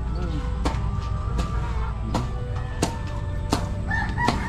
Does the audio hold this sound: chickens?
yes